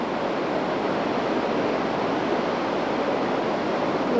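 Ocean waves at Cibuni form a dense, unbroken roar of surf, like rushing water, holding an even loudness from start to finish with no talking over it.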